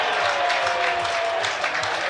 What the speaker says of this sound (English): A big cheer from the crowd, it just drops over the boundary